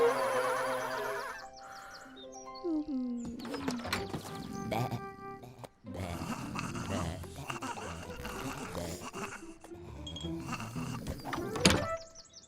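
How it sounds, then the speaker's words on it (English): Cartoon gate swinging open in a children's counting adventure with sheep, heard as a run of creaks, clunks and ratcheting mechanical effects over bright musical tones, with a sharp thunk near the end. "Was that the gate? It was."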